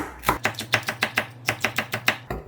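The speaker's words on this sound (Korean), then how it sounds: "청양고추를 좀 자른데 장게한 10개 정도 됩니다." A knife chops Cheongyang chili peppers on a board in a quick, even run of about a dozen crisp, close thuds with brief gaps between them, and no talking.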